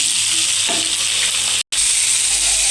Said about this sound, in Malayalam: നമുക്കിത് നന്നായിട്ട് ഇളക്കാം